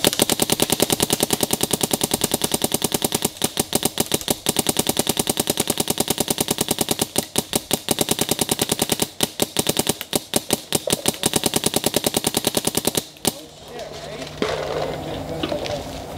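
Rapid automatic fire from a Planet Eclipse Etha 2 paintball marker, a dense, loud string of sharp shots in quick bursts with brief gaps, stopping abruptly near the end and leaving quieter ambient noise.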